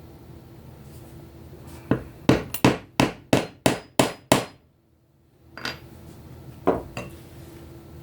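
A hammer strikes a metal rod to join a leather sheath for woodworking tools: about eight sharp, evenly spaced taps in quick succession, loud and close, with some softer handling knocks before and after.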